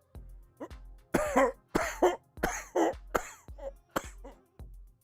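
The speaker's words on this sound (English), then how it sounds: "Try coughing without moving any part of your body" A series of about ten sharp, close coughs in irregular bursts, some doubled, with a throat-clearing quality and short silences between them, no talking.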